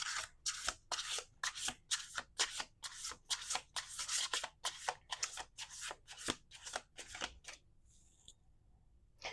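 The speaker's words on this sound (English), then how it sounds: "We're doing 2 more shuffles." Tarot-style cards shuffled by hand during a reading, a rapid series of crisp riffling bursts in quick rhythm, close and fairly quiet, heard alone before trailing off into silence.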